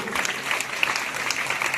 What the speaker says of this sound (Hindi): जोरदार तालियां गुरु जी के लिए